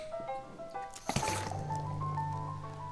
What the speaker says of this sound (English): You plunge your hand into the awful soup. Makes a sound like glop.